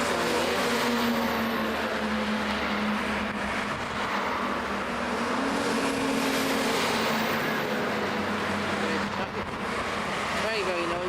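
Busy main road traffic in Bodrum, Turkey, a steady roar of cars and engines passing by in a typical bustling city street, loud and continuous throughout with no break.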